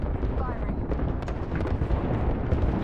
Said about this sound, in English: that's an airstrike